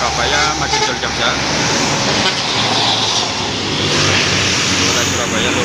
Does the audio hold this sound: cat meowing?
no